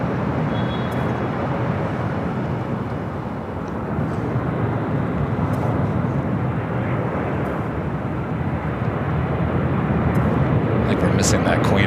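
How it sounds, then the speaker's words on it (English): A heavy United Airlines Boeing 787-10 Dreamliner arriving from Tokyo Haneda at Los Angeles airport roars as a loud, steady jet rumble, with someone talking over it. "Next arrival is a heavy United Airlines Flight 38 coming up from Tokyo Haneda"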